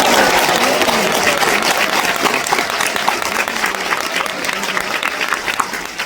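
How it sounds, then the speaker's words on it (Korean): Studio audience at a KBS music show taping applauds the KBS orchestra and its conductor, a steady dense wash of clapping throughout with some crowd murmur. "여러분 큰 박수로 맞아주세요"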